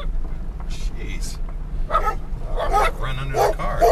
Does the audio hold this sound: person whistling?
no